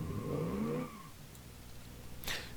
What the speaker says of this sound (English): Yeah, that's a V8 engine in there.